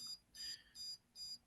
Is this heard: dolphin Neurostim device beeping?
yes